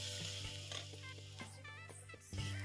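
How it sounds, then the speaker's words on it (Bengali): Onions frying in a pan with salt and turmeric added, cooked outdoors away from home, give a steady close sizzle broken by scraping stirring strokes, with no talk. "পেঁয়াজটা দিয়ে একটু হালকা ভাজা ভাজা করে নেব"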